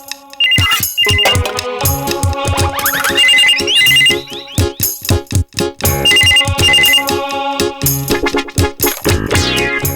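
A telephone rings loudly in a domestic scene from a Malayalam comedy series, its bright electronic ringtone repeating in rapid, stuttering bursts of tones for several seconds, with no voices over it.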